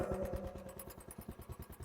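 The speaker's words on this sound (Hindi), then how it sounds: "और बुलेट को हम स्टार्ट करते हैं।" A Royal Enfield Bullet motorcycle engine under repair running close by, a faint, steady thumping beat of single-cylinder pulses with no talk over it.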